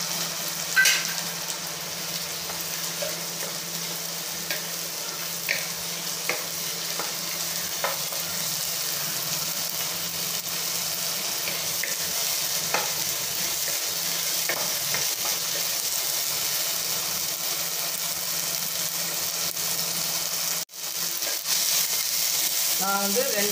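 Ginger garlic paste with a green chilli frying in a pan, a steady close sizzle with scattered scraping and stirring clicks that runs unbroken for the whole stretch, with no talk over it.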